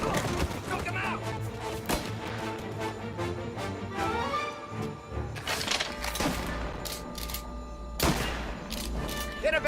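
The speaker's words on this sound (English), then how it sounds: "Reports of gunshots rolling in." Rapid bursts of gunfire crack and thud repeatedly in a chaotic, loud exchange in the video game Mafia: Definitive Edition, with shouting voices mixed in among the shots.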